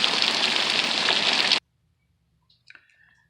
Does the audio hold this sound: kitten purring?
no